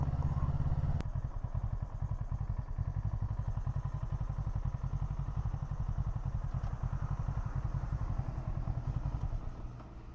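A 2014 Kawasaki ER6N ABS motorcycle rides along a Bali road, its engine a steady, close, throbbing drone with a rapid pulsing beat that holds throughout and eases slightly at the very end.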